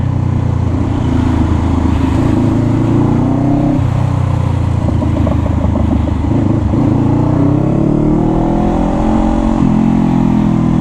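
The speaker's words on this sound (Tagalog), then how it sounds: "This is 500cc bike." Loud, steady drone of a 500cc motorcycle engine riding through heavy traffic, close up, with small shifts in pitch as the throttle rises and eases.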